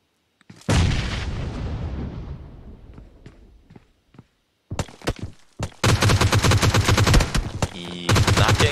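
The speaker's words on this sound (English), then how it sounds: "Oh, that's such a nice suppressor on that gun" A suppressed gun in a first-person shooter opens with one heavy blast that fades slowly, followed by sparse clicks and cracks, then dense, loud bursts of rapid automatic fire.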